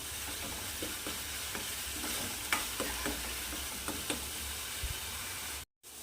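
Masala for a drumstick curry is sautéed in a pan, with a continuous frying sizzle and intermittent scrapes of stirring, ending in a brief silence.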